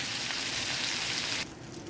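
Lobster searing in a hot cast iron pan, a steady broadband sizzle and fry that holds loud for over a second, then drops abruptly to a quieter hiss.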